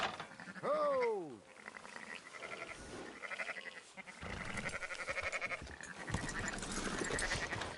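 A loud, wavering bleat of a sheep in Red Dead Redemption 2 rings out early, followed by a busy mix of game sounds and background clatter.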